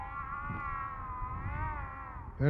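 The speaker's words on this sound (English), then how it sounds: "Sounds like a dying cat or something." Layers of Fear VR game: a long, sustained, cat-like wail with a wavering pitch, eerie and fairly faint over low rumbling ambience, briefly rising into a sharper cry at the end.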